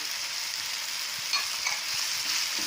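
Chopped vegetables and green chillies fry in a pan for a paneer stuffed kulcha, making a constant close sizzling hiss with a few faint pops and no talking.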